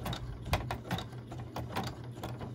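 Embroidery machine stitching a design onto a rope coaster, a quiet rapid ticking and clacking of needle and gears in an irregular mechanical rhythm, close and alone.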